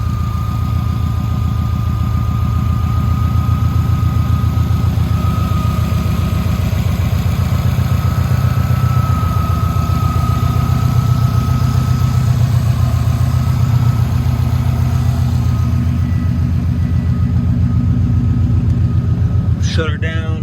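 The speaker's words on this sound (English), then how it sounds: "Show you the engine while it's running so you can hear that there's no rod knock or crazy sounds" A 2007 Subaru STI engine idling steadily, a smooth, even low rumble close to the microphone that holds for the whole stretch with no misfires or knocking, ending with a brief rattle.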